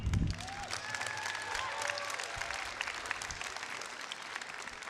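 Audience applause at a robotics competition district event in a large arena, a broad, steady wash of clapping from a big crowd that starts with a loud burst and carries on evenly, with faint whistles and cheers scattered through.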